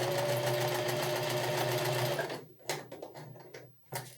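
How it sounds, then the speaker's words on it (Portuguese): A sewing machine stitches a straight seam in trouser fabric with a 1 cm margin. It runs in a steady, close whirr for a couple of seconds, then stops and restarts in short bursts. "Eu vou fazer uma costurinha aqui com 1 centímetro de margem."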